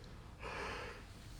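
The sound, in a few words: yawn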